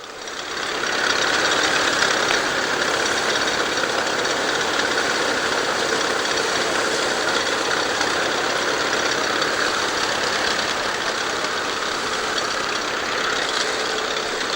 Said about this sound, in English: This thrasher is driven by a Lands Bulldog tractor.